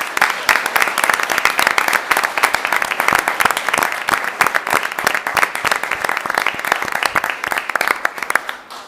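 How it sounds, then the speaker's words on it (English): An audience at a city council meeting in Elmhurst applauds an award recipient being handed a plaque, with steady, dense clapping throughout and a few voices under it. "Round of applause for Peter"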